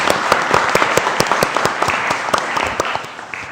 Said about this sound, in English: I'd like to have the audience give Emma a round of applause for her encouragement.